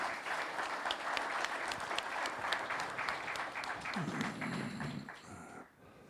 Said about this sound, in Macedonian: Јас сакам еден аплауз за нив кои се одсутни.